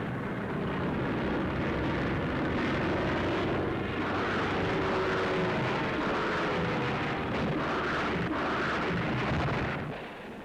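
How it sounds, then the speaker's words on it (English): Rocket-firing Hawker Typhoon fighter planes roar overhead in wartime Germany, a loud, sustained engine drone with rough bursts and rumbling mixed in, swelling and receding over several seconds before easing off at the end. "These are rocket-firing Typhoons."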